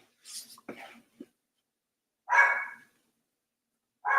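A pet dog barks indoors during a home stretching workout: a short, loud bark burst, then silence, then another bark starting at the end, with faint breathing or movement sounds beforehand.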